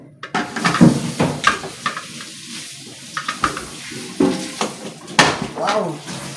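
A lid being put on a pot of tinola, Filipino chicken soup, with clanks of metal cookware and stirring and sizzling sounds, all under someone talking throughout.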